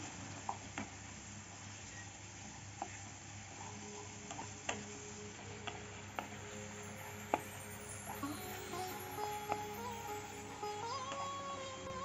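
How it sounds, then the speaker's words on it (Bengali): Spiced chela fish curry being stirred and fried in a pan: faint, scattered ticks and scrapes of a spoon against the pan over a low, steady sizzle, quiet and close. "এখন নাড়িয়ে নেব। ভালো করে নাড়িয়ে নাড়িয়ে কষাতে হবে।"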